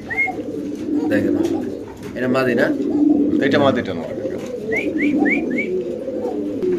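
Pigeons coo at a pigeon market, several soft rolling coos close by, heard under steady conversation between two men.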